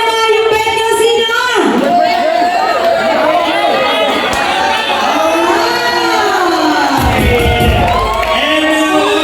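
A crowd at a paper dance event shouts and cheers throughout, loud and continuous, with excited voices rising and falling over a busy background.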